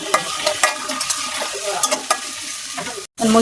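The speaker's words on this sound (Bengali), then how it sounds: "হালকা ভাজা হয়ে গেছে এখন পেঁয়াজ বাটা জিরা বাটা দিয়ে দিলাম" Onion and cumin paste sizzles in a hot pan for a Bengali kachu and ilish fish curry, with a spatula scraping and stirring in irregular strokes over the steady frying hiss, close and clear, with a short silent gap near the end.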